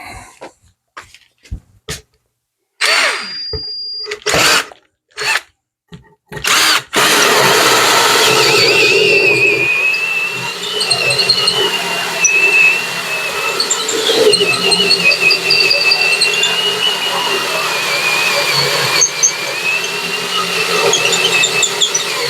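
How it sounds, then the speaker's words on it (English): A power drill drills holes through an RV motorhome from both sides, beginning with short bursts and clatter, then grinding on as one long, loud, continuous run. "We're going to go ahead and drill those through"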